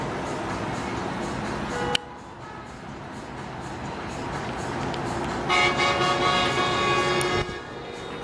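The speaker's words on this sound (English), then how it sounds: "I think that's a train I'm hearing." A train horn sounds from a distance near a Days Inn hotel, a faint sustained tonal blast partway through, over steady outdoor traffic rumble and background noise.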